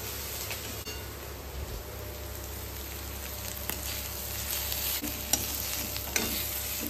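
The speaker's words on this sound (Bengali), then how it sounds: "মশলাটাকে কষাতে হবে।" Ground spices such as cumin, turmeric, chili and coriander with a little sugar sizzling in a pan as the masala is sautéed, a steady soft frying hiss with occasional stirring clicks, heard alone.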